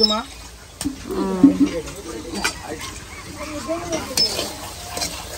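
Onions and dried chillies fry in oil in a home kitchen, a quiet sizzle with occasional clinks and stirring scrapes of utensils, mostly under people talking.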